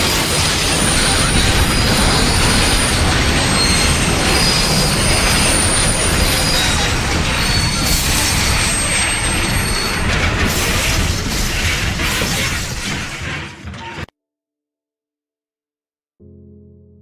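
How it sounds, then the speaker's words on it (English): A passenger train derailing at speed on a curve, loud sustained rumbling and grinding with wheel squeal and heavy metallic crashing, then abrupt silence and a faint low sound at the end. "The train comes off the tracks at such speed that it sends the entire train off the tracks."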